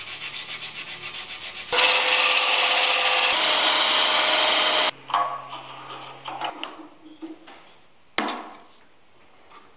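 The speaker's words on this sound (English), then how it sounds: "spend a few hours sanding." A segmented maple wood sculpture is sanded and filed, a close, loud steady abrasive rasp with a rhythmic stroking texture that gives way to irregular scraping strokes and short pauses, with no talking.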